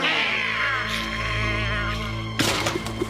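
A cartoon cat gives a long, wavering meow that bends in pitch, followed by a sudden burst of clattering noise, loud and close.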